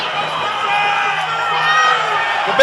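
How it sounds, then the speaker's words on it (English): Crowd at a live Muay Thai fight in Perth roars and cheers continuously, a dense loud wall of shouting and whoops that swells steadily. "Oh, the crowd is going mental."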